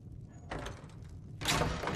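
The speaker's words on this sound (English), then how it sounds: "Close the door." Wooden door in the game Skyrim thuds shut, a soft knock followed by a louder closing bang about a second later, with no voices.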